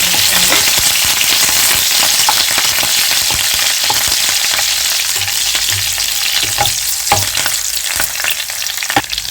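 Curry leaves and garlic sizzle hard in a hot tempering for dal, a dense, continuous crackling hiss with scattered pops and stirring clicks, close and loud throughout.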